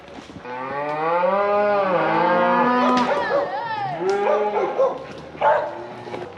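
Cattle driven along a hillside through deep timber moo repeatedly, several loud, drawn-out calls close by that overlap one another, with a dog yipping briefly among them.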